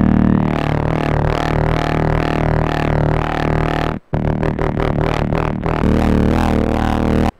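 A vocoded voice played as a bass line through the OVOC plugin with distortion added, giving a buzzy, harmonically dense tone that pulses in a steady rhythm, drops out briefly, then returns with choppier repeated notes.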